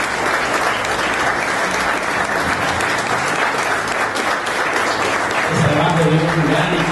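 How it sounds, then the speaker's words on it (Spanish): Audience applause fills a celebration event in Guadalajara marking a company's 50th anniversary, held in honour of its Mexican sales team. Steady, dense clapping runs throughout, with a few voices rising near the end. "el equipo comercial de Simacú México se merece un gran aplauso"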